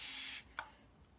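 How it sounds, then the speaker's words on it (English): Spray bottle misting distilled water onto chalk, a sustained hissing spray followed by a second short, sharp spritz, close and alone. "we're just going to go ahead and spray this down"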